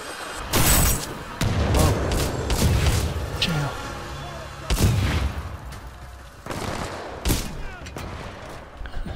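Shotgun blasts from the video game Titanfall 2: several loud, booming shots spaced irregularly through the clip, each a sharp broadband burst with a short decaying tail, over a steady bed of game sound.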